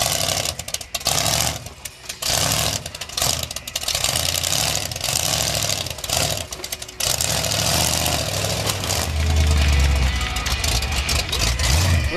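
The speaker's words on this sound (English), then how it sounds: "This engine's trying to cut out on it." An off-road 4x4 truck engine with fuel delivery issues runs loud and close, its rumble faltering and dropping out in uneven bursts before surging back in a low roar.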